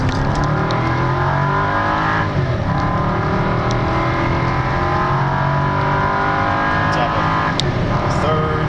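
A 2008 Cadillac SRX with the Northstar V8 accelerates hard from 0 to 60, heard from inside as a loud, rising engine roar climbing through the gears with brief shift dips, steady and close.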